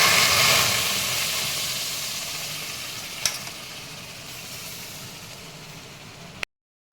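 Blended ripe mango poured into a kadai on a gas stove gives a steady broad hiss that slowly fades, with one sharp knock partway through, then silence.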